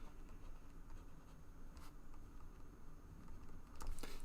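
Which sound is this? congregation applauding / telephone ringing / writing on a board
writing on a board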